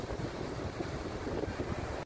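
Sea waves rush continuously on a beach, a dense, even roar of surf and wind with a low rumble, no voices, and a brief dip right at the end.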